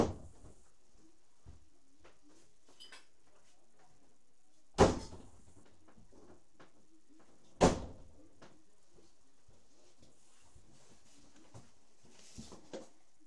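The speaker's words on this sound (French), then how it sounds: "cap ou pas cap de claquer les portes de chez toi le plus fort possible" House doors are slammed as hard as possible, two sharp, loud bangs several seconds apart, separated by quiet room tone with faint rustling and small knocks.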